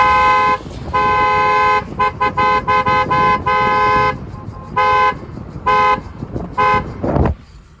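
Loud Hyundai Creta horn fitted to a Maruti Baleno, blaring in a string of honks: two long blasts, then quick short toots and a few more medium ones, heard up close outdoors.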